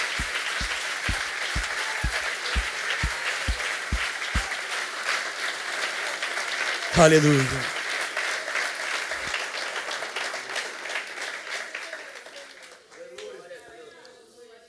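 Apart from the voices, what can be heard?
congregation applauding in church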